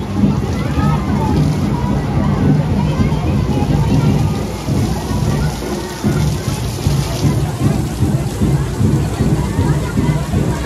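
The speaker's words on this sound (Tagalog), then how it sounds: "Sobrang lakas ng ulan" Heavy rain pours down in a dense, steady roar, drumming hard on a surface overhead during a street dancing festival in Cagayan de Oro, Philippines, with a faint rumble of thunder underneath.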